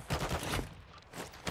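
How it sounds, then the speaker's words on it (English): Video game gunfire in a military shooter, bursts of rapid shots at moderate distance with a short pause before another volley. "I'm taking fire."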